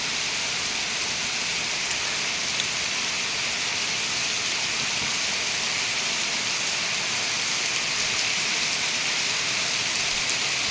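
Heavy rain pours down steadily, a dense, unbroken hiss that stays loud and even throughout with no voices.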